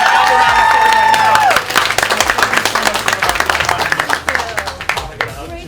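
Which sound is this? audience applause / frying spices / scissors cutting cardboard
audience applause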